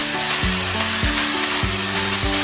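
Ridge gourd, potato and onion fry in a pan with a steady, loud, close sizzle, broken by several heavy spatula stirs that land at irregular intervals, with no voices.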